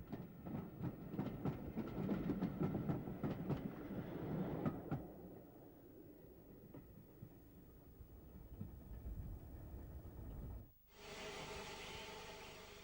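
An N7 steam locomotive hauling a five-coach articulated passenger train rumbles past with rhythmic clatter of wheels on rails, loud at first then fading into a distant hiss and hum.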